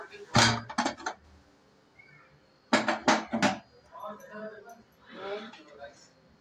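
A home kitchen pressure cooker holding masala rice is opened after cooling, with sharp metallic clanks and clatters of the lid and pot in two close bursts, then softer handling noises.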